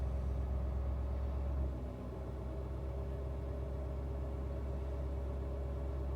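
A Ford 6.7 Powerstroke diesel truck engine idles with a steady low rumble, its pitch lifting slightly as it revs up by itself while the exhaust filter regenerates, heard alone without voices.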